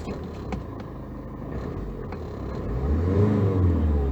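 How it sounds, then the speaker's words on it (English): A car engine revs in neutral while a scan tool checks diagnostic data: a steady, loud engine drone that swells and deepens toward the end as the accelerator is pressed. "because this is in neutral and I am applying, I'm giving sort of acceleration."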